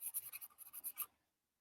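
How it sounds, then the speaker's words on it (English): Quick handwriting on paper, about ten short scratchy pen strokes in a brisk rhythm, close and faint, ending in silence. "Let me write down."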